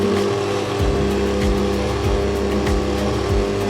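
Electric mixer beating powdered sugar into bee candy, a steady motor hum with a rhythmic low thumping of the beaters cycling through the thick mixture, loud and continuous with no voices.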